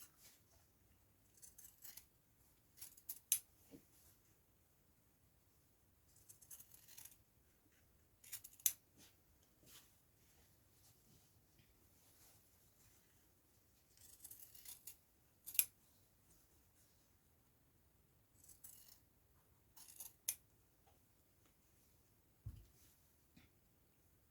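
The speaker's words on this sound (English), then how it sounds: "you're going to cut them out using fabric scissors" Quiet snipping of fabric scissors through cloth in short bursts of several cuts, separated by pauses, close and soft.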